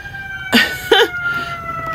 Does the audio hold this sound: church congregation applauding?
no